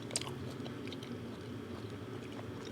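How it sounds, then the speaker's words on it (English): Close, quiet chewing of dry-aged beef steak, soft wet smacking and light crunching in an irregular rhythm, with no talk over it. "Sorry for the chewing."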